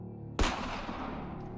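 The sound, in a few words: gunshot fired inside a wooden cabin, sound effect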